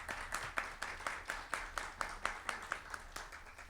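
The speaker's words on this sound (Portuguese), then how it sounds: "Palmas para ela, por favor." Steady applause from an audience at a formal academy lecture event, many hands clapping in a regular, even rhythm, fairly faint and distant with no voice over it.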